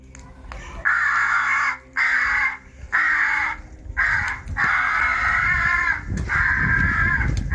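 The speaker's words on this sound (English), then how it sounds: "Using a bird distresser call, Stewart attracted a huge murder of crows to Des's garden." A large murder of crows caws loudly in a garden, drawn in by a bird distress call: repeated harsh calls in long overlapping bursts with short gaps, close and continuous over a low background rumble.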